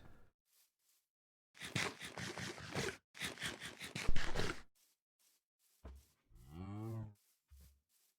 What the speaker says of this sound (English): We can hear the cow from here, huh?